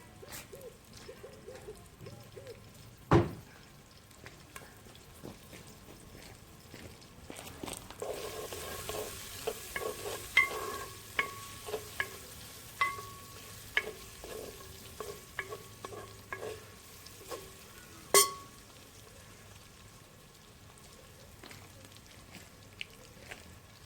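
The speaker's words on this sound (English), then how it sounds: "onions in there and the oil in there, and now we're just waiting for it to simmer and get a little bit brown" Onions frying in oil in a dutch oven outdoors: a soft, steady sizzle with repeated clinks and scrapes of stirring, a few sharper knocks standing out, no talk.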